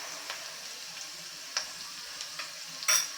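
Chopped green chilli sautéing in a pan makes a soft, quiet sizzle with scattered light ticks and pops, ending in a short sharp clink, without any talking.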